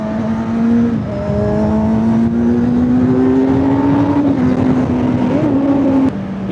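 Kawasaki Z900 motorcycle fitted with a BMC air filter, its engine running loud and close with a steady droning tone that rises gradually, then dips near the end, with no talk.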